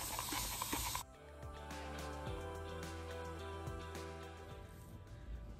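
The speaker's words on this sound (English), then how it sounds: "You're just gonna spray that hair." A spray bottle mists water onto curly wig hair in a short hissing burst that cuts off after about a second, followed by quieter room sound.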